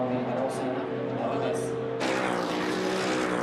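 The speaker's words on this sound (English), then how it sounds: "As the cars head towards the Blancpain chicane once more for the 20th time" FIA GT1 race cars at a Slovakia circuit heading toward a chicane, engines droning loudly with a sharp burst of revving partway through, under continuous commentary.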